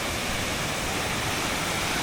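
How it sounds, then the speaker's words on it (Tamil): A small waterfall pours down a mountainside in Australia, a loud, dense, unbroken rush of falling water close by with no voices. "இங்கே ஒரு அழகா ஒரு குட்டி அருவி வருது பாருங்கள்"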